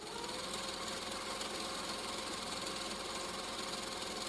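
A sewing machine stitching curved quilting arcs on a quilt block, a steady, fast mechanical whirr running continuously and evenly at close range with no pauses.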